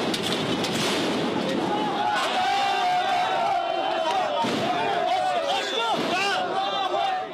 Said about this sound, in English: as they banged on the gate, shouting to be let across